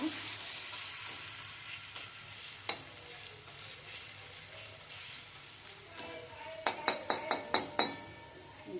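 Onions sizzle steadily in a frying pan while being stirred, with occasional light scrapes, ending in a quick series of sharp metal taps against the pan, close but quiet.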